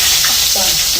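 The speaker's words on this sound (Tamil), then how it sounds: "எண்ணெய் நல்லா கொதிச்சிட்டுது. கத்திரிக்காய் பொரிச்செடுப்பேன்" Oil boiling hard in a pan, ready for frying brinjal: a loud, dense, unbroken hiss and bubbling that fills the whole moment with no pauses.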